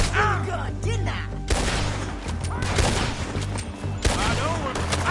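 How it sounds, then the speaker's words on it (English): Rapid gunfire bursts in a PS4 video game, dense overlapping shots and volleys close up and loud throughout, with voices and shouting mixed in. "Told you I could shoot a gun, didn't I?"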